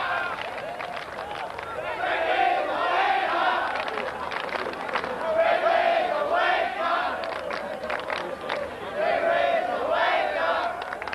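A rugby league stadium crowd in a 1992 Queensland residents versus Great Britain match swells with cheering and shouting in waves, heard beneath a commentator's voice talking throughout.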